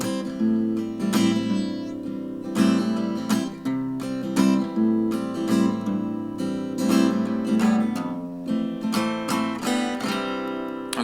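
Guitar played fingerstyle in a beginner lesson, picking a moderate-tempo pattern of bass root notes and higher plucked notes, with individual string attacks ringing clearly and close up, no voices.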